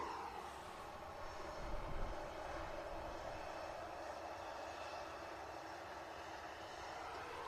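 A Boeing 757 airliner pushes back for departure at an airport, its engines a faint, steady, distant roar holding evenly throughout with no talk over it.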